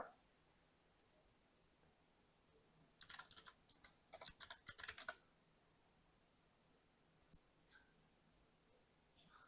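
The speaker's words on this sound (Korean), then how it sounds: "이게 고래비 쓰는 키보드예요." Keys clack on a compact Japanese Happy Hacking keyboard, a quiet scattered pattern of taps with a dense flurry of rapid typing in the middle and a few isolated presses near the end.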